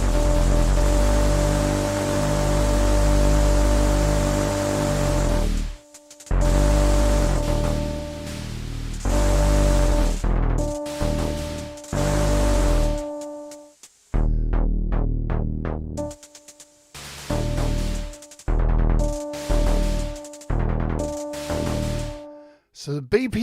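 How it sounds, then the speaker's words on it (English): Percussive Synth iOS app producing a static synth drone at very high BPM: a dense, buzzy wall of tone that starts steady, then chops into rapid rhythmic stutters and gated bursts with brief silences between. "can create almost like drones and like this static wall of sound that has rhythm built into it"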